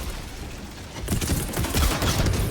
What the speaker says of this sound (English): Deploy gas mortar sentry.